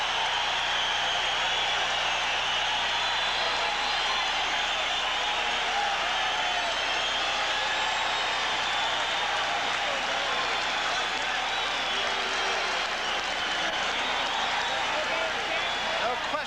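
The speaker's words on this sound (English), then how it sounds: "listen to this crowd" A boxing arena crowd roars steadily as champion Marvelous Marvin Hagler enters the ring for a world middleweight title fight, a sustained wash of cheering and clapping with a commentator talking over it.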